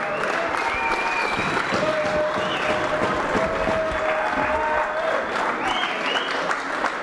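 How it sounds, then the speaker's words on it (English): Boxing-event crowd applauding the fighters at a promotion night, a dense sustained roar of clapping with some cheering and voices mixed in throughout. "Ladies and gentlemen, let's give these guys a big, big, big round of applause."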